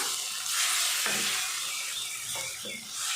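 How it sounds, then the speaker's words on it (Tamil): Plantain fry for Tamil vazhaikkai varuval stirred in a hot pan after a splash of water, with a continuous close sizzle broken by a few scraping stir strokes of the spatula. "தண்ணி தெளிச்சுட்டு நல்லா கலந்து விட்டுடலாம்"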